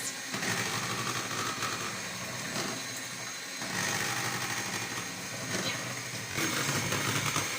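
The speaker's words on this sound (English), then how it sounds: "I've been whisking for a bit now" Ice cream mixture being whisked by hand, a steady busy scraping and rattling texture that swells and eases slightly in waves, continuous throughout with no talk.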